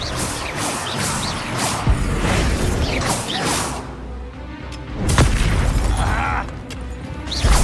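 Repeated Confringo fire spell blasts from Hogwarts Legacy, several booming whooshes and bursts across dense game sound with music and effects layered throughout, with faint voices mixed in.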